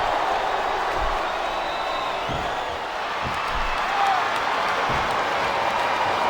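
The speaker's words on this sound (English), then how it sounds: "I think these superstars are getting some feedback from the crowd, JR." Steady crowd noise with cheering from an arena audience in the WWE SmackDown vs Raw 2007 wrestling video game, a continuous broad roar throughout with occasional louder swells and faint thuds.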